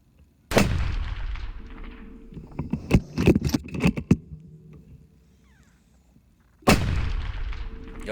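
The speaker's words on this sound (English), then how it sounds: "Did you really need to shoot him twice?" A rifle fires twice at a ten-point buck deer outdoors. Each shot is a sharp, loud blast that rolls away into a long echo, with faint rustling and scraping between the two shots and no talking.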